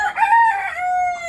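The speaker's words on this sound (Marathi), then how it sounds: "इथे कोंबड्या पाहू शकता, आपले ओरिजिनल गावठी असे कोंबड्या आहेत" A native village rooster crows once among a flock of country chickens on a poultry farm, a single loud, close, drawn-out cock-a-doodle-doo lasting just over a second.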